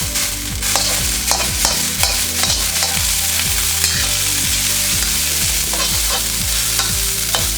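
Leftover rice with garlic and ginger fries in a pan for pork fried rice, a steady loud sizzle broken by repeated scraping stirs in an uneven rhythm, with no voices.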